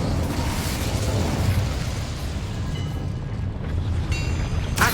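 The Incendio fire spell in Hogwarts Legacy erupts as a rushing, roaring blast of flame, a dense sustained whoosh with crackling texture ending in a short bright burst, no voices heard.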